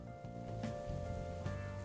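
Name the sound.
rain in video game Dark Souls Remastered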